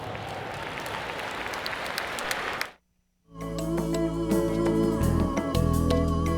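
A congregation at a NAACP dinner gives a burst of applause as a clap offering, dense clapping that stops abruptly, then gives way after a pause to a sustained musical tone.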